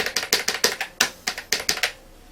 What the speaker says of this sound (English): Let's try doing a Control-Alt-Delete.